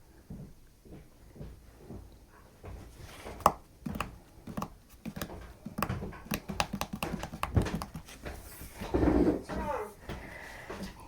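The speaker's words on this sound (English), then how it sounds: "I hear footsteps." Footsteps thud irregularly on a hard floor in a room, some knocks louder than others, with scattered clatter and a faint voice underneath.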